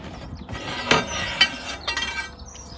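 A homemade square tube bender for box section works through a few short metallic clinks and ratcheting clicks, close and fairly quiet, with a soft mechanical rattle between the louder knocks.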